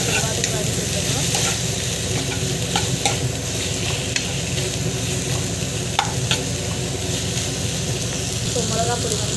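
Okra sautéing in a pan, a continuous loud sizzle with occasional stirring clinks and scrapes, steady throughout with a person's voice faintly underneath.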